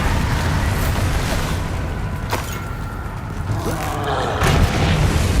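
Bombarda spell blasts in Hogwarts Legacy gameplay bring loud, deep booming explosions over a dense, rumbling battle din, with a few sharp impacts near the middle and end and no clear voices.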